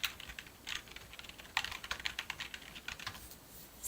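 Someone types on a computer keyboard, with quick, irregular clicks and taps close to the microphone and a few louder keystrokes among the rapid run, with no voices.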